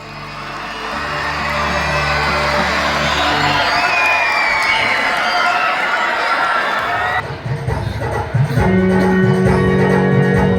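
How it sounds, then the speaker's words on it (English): Audience at a school Children's Day celebration claps and cheers loudly and continuously, a dense crowd roar with children's shouts and whoops that swells and stays strong throughout, with a burst of higher voices near the end. "Please give a big applause for him."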